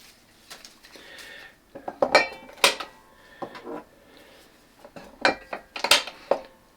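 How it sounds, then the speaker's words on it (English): Metal clanks and clinks as detachable handles are fitted to Astercook cookware pots meant for RV, cabin or tiny-house use, with several sharp clustered taps at uneven intervals, close and moderately loud. "you can put 2 handles on a pot"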